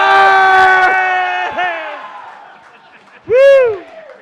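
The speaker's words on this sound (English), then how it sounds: "Biggest applause of the night." A single voice at a live fan show whoops loudly with a long held cry, followed by short yelps and then another rising, falling whoop, all close and prominent.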